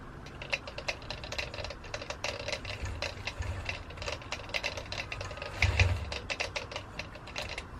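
A longarm quilting machine sewing binding runs through an automatic tie-off, giving a fast, steady mechanical ticking and clicking rhythm close by, with a brief heavier thump near the end and no talk.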